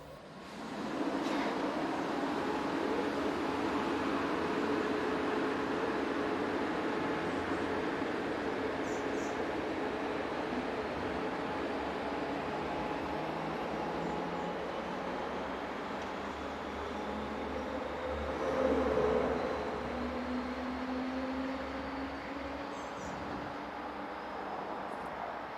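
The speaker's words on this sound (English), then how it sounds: "After a short stop, the train departs for Bad Schandau." S-Bahn train hauled by a Dresden Class 143 electric locomotive pulling away from a station stop, a steady low rumble with a faint rising whine, fairly distant and even throughout.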